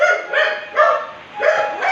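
A dog barks and yips in short repeated bursts, loud and close, with no talking over it.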